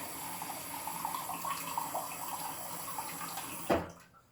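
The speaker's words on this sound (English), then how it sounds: "So first, we're going to pour the tap water." Ordinary city tap water being poured, heard as a steady, fairly faint rushing stream that runs evenly and then ends with a brief louder splash and a sudden stop.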